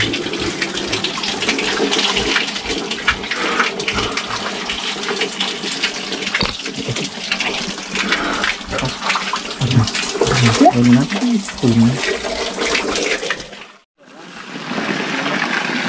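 Water pours and splashes steadily from five spring spouts in a continuous loud rush, with voices faintly mixed in before a brief dropout.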